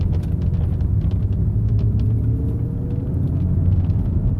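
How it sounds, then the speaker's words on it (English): Steady low road rumble inside a BMW M3 driving over uneven pavement, a continuous loud drone of tire and cabin noise with faint ticks and rattles above it and no speech. "I am on uneven pavement. So we're probably gonna get more road noise."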